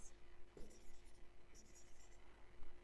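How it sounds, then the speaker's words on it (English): Chalk or marker scratches across a board as an English example sentence is written out, several short strokes in a quick run, close and fairly clear over low background hum. "Let's write the example here."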